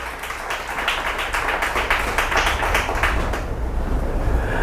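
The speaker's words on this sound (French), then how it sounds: "Je voulais entendre l'acclamation des Togolais." A Togolese congregation at a church lecture claps and cheers, a dense, sustained wash of applause and acclamation from a large crowd that holds steady and then thins slightly near the end.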